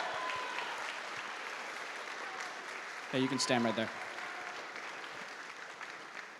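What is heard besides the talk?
audience applause for student conductor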